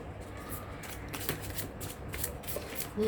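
Oracle cards being handled and shuffled during a full-moon reading, giving a soft, steady papery riffling close up and at low level, with a brief card flick near the end and no voices.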